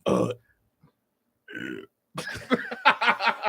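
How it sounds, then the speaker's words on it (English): A deliberate fake burp pushed into a microphone, starting with a short croak, then a brief pause and a second grunt before a long, loud, rumbling belch that breaks into several pulses. "I'm not burping on the mic"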